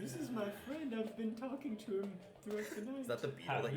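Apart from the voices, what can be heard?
No distinct noise like a dog, phone or traffic.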